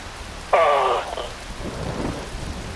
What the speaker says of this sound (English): Wind blows, rain falls.